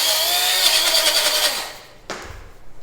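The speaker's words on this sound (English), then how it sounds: "One reason for that is actually to kind of clean out the grinder a bit, to get the green, the celery out of there" Kitchen grinder whirring through celery and salt for a homemade seasoning salt, a loud buzzing run for about a second and a half that winds down, then a brief clatter.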